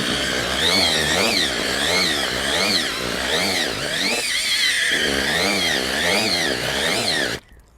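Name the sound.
electric drill mixing fishing groundbait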